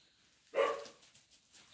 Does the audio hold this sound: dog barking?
yes